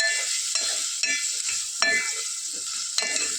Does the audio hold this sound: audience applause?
no